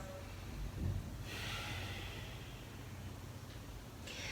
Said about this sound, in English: Long, audible inhales,